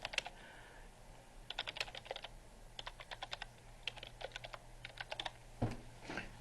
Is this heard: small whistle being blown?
no